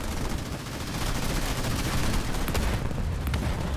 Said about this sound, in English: Hornet is under artillery assault.